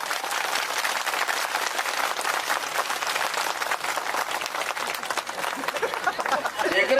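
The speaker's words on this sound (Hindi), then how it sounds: "जोरदार ताली बजा के स्वागत करो" Outdoor crowd at a village fair gathering in Chhattisgarh claps loudly to welcome a guest, sustained dense applause for several seconds with faint voices mixed in.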